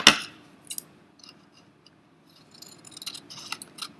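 Scissors snip through paper while a paper lizard craft is cut out, a sharp snip up front, then quieter paper rustles and a cluster of small crisp cuts near the end.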